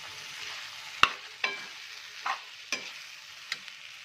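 Cooked tripe being stirred into masala in a pan: about five distinct scraping clanks of a spoon against the pan, spaced irregularly over a soft, low frying sizzle.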